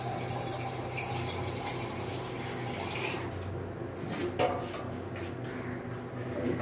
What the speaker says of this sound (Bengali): এই জন্য আর একটু জল দিয়ে দিলাম।